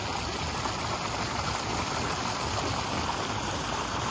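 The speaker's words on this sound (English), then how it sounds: "All of those bubbles, that's actually the leftover algicide that's still in the system." Water from an above-ground Intex pool filter churns and bubbles after backwashing, carrying leftover algicide, as a loud, steady, broadband rush close by with no pauses and no voices.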